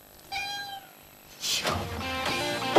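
A cat gives two close, clear meows, a short one followed by a longer, louder call, in a Polish TV commercial.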